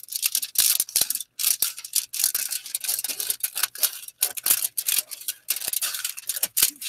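Scissors snip repeatedly through paper while cutting out a rectangle for a second-grade art project, giving quick crisp close cuts in an irregular rhythm with short pauses.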